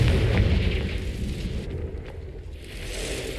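A loud, sustained fiery blast from the Confringo spell in Hogwarts Legacy, a dense rumbling boom that swells at the start and keeps roaring with crackling fire noise throughout, with no talk over it.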